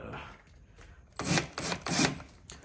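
A screw driven into a door hole cover plate: three short, close, scratchy bursts of grinding in the second half, after a quieter stretch of faint handling noise.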